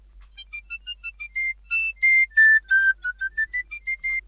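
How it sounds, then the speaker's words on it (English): Melodic Celtic tin whistle from a virtual instrument plays a run of short, clear piped notes alone, some held longer, rising and falling in a lively phrase. "I'm going to go Celtic tin whistle"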